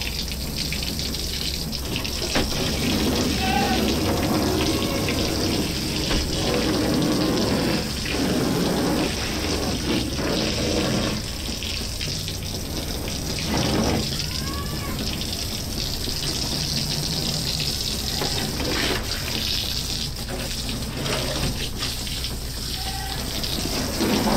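Water runs steadily and splashes for a long stretch while bathing a Varanus cumingi monitor lizard, a continuous gushing hiss with occasional shifts as it hits something, close by.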